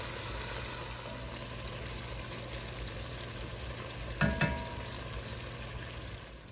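Tomatoes and green chilies frying with turnip and spinach in a pan, a steady low sizzle throughout with a brief louder burst of stirring or clatter near the end.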